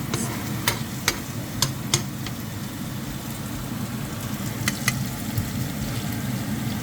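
Minced chicken frying in a pan, a steady close sizzle throughout with a few sharp clinks of a utensil against the pan near the start and again toward the end.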